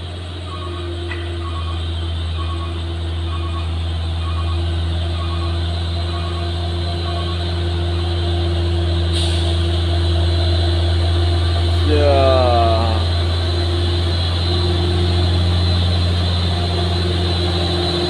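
A Hino box truck in the Aceh highlands labours uphill in low gear toward a summit, its engine droning steadily and loudly throughout with a slight swell in intensity near the middle.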